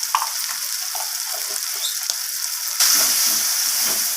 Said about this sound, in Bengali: টমেটো আর পেঁয়াজের সাথে লঙ্কা আর হলুদ গুঁড়োটাকে মিশিয়ে নিয়ে ভালোভাবে আমি একটু ভেজে নিচ্ছি